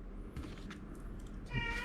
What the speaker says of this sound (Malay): Kucing saya pun dah berbunyi-bunyi dah tu